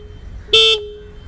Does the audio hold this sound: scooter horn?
yes